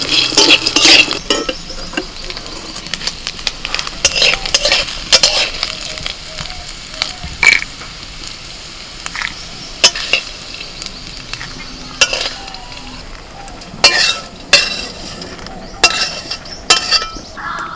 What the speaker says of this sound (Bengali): কিছু ভাজা ছোলা নিয়েছি, এগুলোকে একটুখানি হালকা করে নারকেলের সাথে নাড়াচাড়া করে নেব